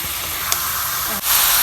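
Water poured onto frying broiler chicken meat in a village kitchen hisses as a loud, steady, broad spray of steam, with a brief dip near the end before the hiss surges again.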